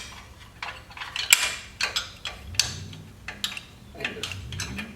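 A wrench clicks and taps against a car part beneath a vehicle during a repair, giving close, scattered metallic ticks and scrapes over a low background hum.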